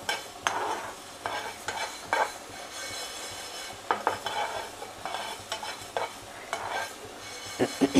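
Fenugreek and mustard seeds roasting in a pan for onion pickle, with repeated scraping and stirring strokes of a utensil against the metal over a soft dry sizzle, close and uneven in rhythm, no talking.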